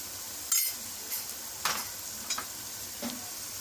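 Soft sizzling of okra frying in a pan, with a few stirring scrapes and light clinks of a utensil against the pan.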